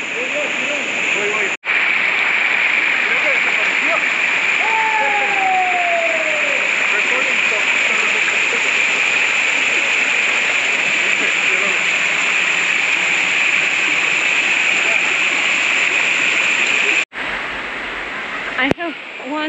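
Steady, dense rush of flowing water at Semuc Champey, Guatemala, loud and continuous throughout, with a person talking faintly over it at moments.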